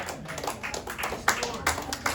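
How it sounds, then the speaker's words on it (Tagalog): A church congregation gives weak, scattered clapping, a few soft, uneven claps spread over a couple of seconds at fairly low level, with a hint of voices around them. "Mahina ang palakpak."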